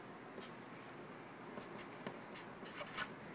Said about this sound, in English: I'll write that over here.